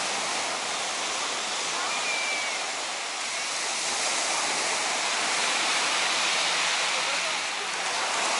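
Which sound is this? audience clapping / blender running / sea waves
sea waves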